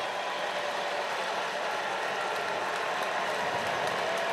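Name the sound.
baseball stadium crowd rising and applauding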